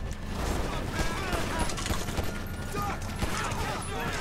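Gunshots in Grand Theft Auto V crackle in a dense, fairly loud volley of repeated shots amid game noise, with voices talking over the shooting.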